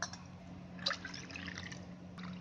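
Water poured into a bowl to make thin buttermilk, a soft close trickle and gentle splashing that carries on quietly for a couple of seconds.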